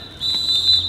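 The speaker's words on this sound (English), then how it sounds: "he blows the whistle" A referee's whistle shrills in a soccer match, one sharp, loud, steady blast lasting under a second over faint field noise.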